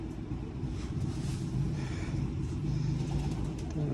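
Two pigeons cooing in the evening, soft low throaty coos close by over a steady low rumble of background traffic.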